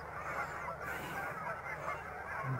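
Snow geese coming in over a pond at a wildlife refuge, a dense, steady wash of honking from a large flock, continuous and moderately distant with no talk.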